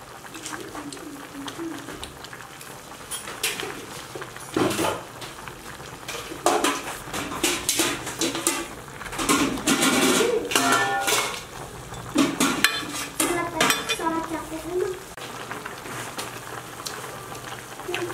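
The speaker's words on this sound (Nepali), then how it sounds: "कालो सुँगुरको मासु उम्लिँदैछ बोइलिङ हुँदै" Black pork meat boiling in a pot for a curry with mustard greens, with bubbling and simmering mixed with metallic clinks of pots and utensils, loud and close throughout.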